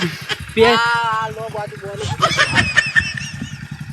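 A motorcycle engine idles nearby with a low, steady throb beneath people talking loudly.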